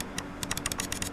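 A Razer Basilisk Ultimate gaming mouse gives a quick series of faint, crisp button clicks, close up, with uneven spacing.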